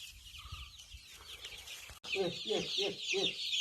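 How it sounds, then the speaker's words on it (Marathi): A flock of about 250 free-range village chickens in the Konkan countryside clucks and cackles close by, growing busier and louder partway through, with a faint voice in the background. "त्यांच्यासोबत ही गावरान अडीचशे कोंबडी सोडलीत ना मस्त सगळी खेळतात बागडतायत"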